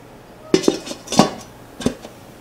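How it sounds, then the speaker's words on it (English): A metal lid set back onto a pot of corned beef, with a few sharp clanks and rattles close by against a quiet room, settling after about two seconds. "I want to break my own rule and put the cover back on for a while longer"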